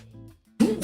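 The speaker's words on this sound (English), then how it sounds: "Sneeze." A single sharp sneeze bursts out close by after a brief quiet moment, loud and sudden with a breathy finish.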